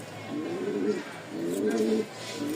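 Giribaz pigeons coo in two low, throaty, rolling phrases close by, with faint background noise between them.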